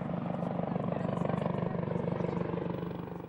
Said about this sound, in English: An Apache helicopter paid the final respects over the monument